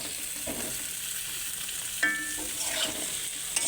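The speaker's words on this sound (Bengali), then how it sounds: "এবার ঝিঙ্গে আর আলুটা দিয়ে একটু ভালো করে কষে নেব।" Ridge gourd and potato are stir-fried in a pan after onion and ginger-garlic paste, a continuous close sizzle broken by stirring scrapes and a couple of sharp utensil clinks. No speech.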